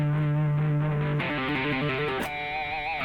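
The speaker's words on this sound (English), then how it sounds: "It's not even like a ton of distortion." Electric guitar played through a dialed-in, raw tone with moderate distortion, sustained notes followed by a quick run of picked notes and a ringing held note, loud and alone without talking.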